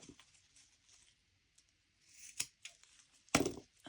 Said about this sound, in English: You know what? I'm going to cut.